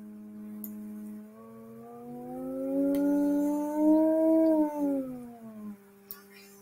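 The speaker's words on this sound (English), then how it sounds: "Let's click on this tone generator here." An online tone generator plays a steady electronic tone that slowly rises and falls in pitch, clear and fairly loud, with faint clicks at the start and end.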